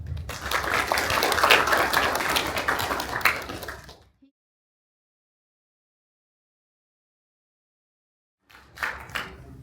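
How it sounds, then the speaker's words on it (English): Seminar audience applauding, a full burst of many hands clapping for about four seconds before cutting to silence, then a shorter return of clapping near the end. "Please give me a round of applause"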